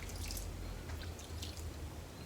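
Water drips among dahlia roots during watering on a cold, windy day, giving a few faint, scattered drips over a soft low rumble, with no talking.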